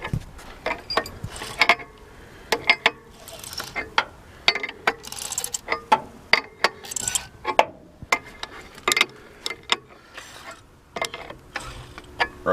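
A large wrench turns over the seized engine of a 1947 1½-ton dump truck. Close metallic clicks, knocks and ratcheting sounds come in an irregular series.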